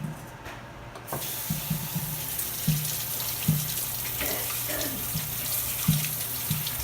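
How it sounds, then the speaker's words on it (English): Beans are washed under a running kitchen tap. A steady, close rush of water fills the sink while soft knocks and clatters recur as the beans are stirred in the stream. "Alright, so we're going to wash our beans."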